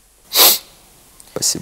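A person sneezes loudly up close, a sharp burst, followed after a pause by a short spoken reply.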